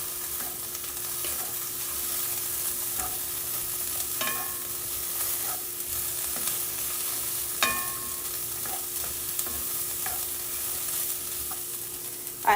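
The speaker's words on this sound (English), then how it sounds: "Just making some stir fry." Beef and vegetable stir fry sizzles steadily in a pan for a long stretch, with scattered clicks and scrapes from stirring and a faint steady hum underneath. No speech.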